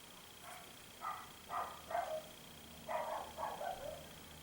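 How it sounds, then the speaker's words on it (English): A small dog outdoors gives about six quick, faint yapping barks in two short bursts, heard from a distance against a quiet background. "We have a little dog as a guest here."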